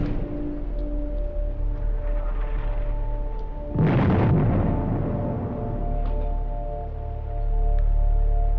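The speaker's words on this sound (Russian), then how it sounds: "Магма прорывается сквозь трещины в земной коре." A deep, rumbling volcanic explosion bursts out partway through over a steady low drone as magma breaks through cracks in the Earth's crust, then fades back into a continuous background hum.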